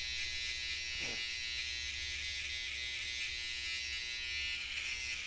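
Electric hair clippers buzz steadily and close at home while cutting hair, a constant high-pitched motor hum with a brief shift in tone early on, no talking.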